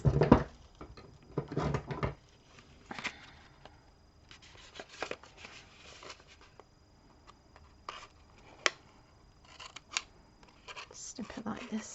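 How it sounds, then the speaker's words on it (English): Scissors snip through paper-craft packaging in a run of short, sharp cuts with quiet pauses between them, and a soft voice is heard now and then. "Snip it like this"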